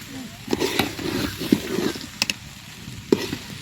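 Vegetables and rice are stirred and fried in a pot for vegetable khichuri, a soft continuous sizzle with scraping and clacking stir strokes at irregular intervals, close by.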